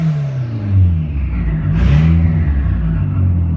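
Turbocharged 1999 Mitsubishi Eclipse GSX AWD engine running anti-lag on a cold day, a loud close low rumble that swells into a brief rev near the middle before settling back to a rough idle.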